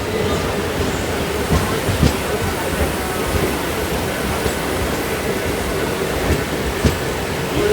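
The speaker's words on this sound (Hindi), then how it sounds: "केरला एक्सप्रेस आती हुई" The Kerala Express rolls into a railway station with a loud, steady rumble and periodic clanks of wheels over rail joints, close by, with faint talk underneath.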